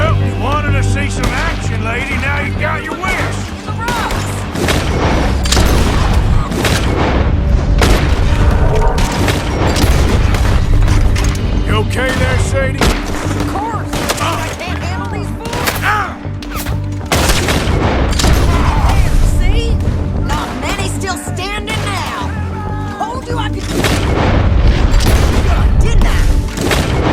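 In the Western shooter game Red Dead Redemption II, heavy bursts of gunfire and booming explosions crowd a loud, continuous battle soundscape, with rapid shots, deep thuds and a musical score running underneath throughout.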